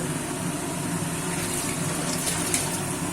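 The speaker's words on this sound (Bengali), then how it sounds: "তো আমি এটাকে এবার জল দিয়ে দেবো" Water pours steadily into a pan of cauliflower in a kitchen, a loud continuous splashing gush filling the whole stretch without talk.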